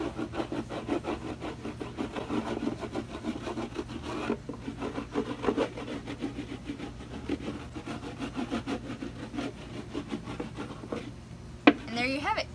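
Surfboard wax rubbed onto a surfboard in small circles gives a steady, close scraping rasp that repeats continuously, with a brief sharper scrape near the end.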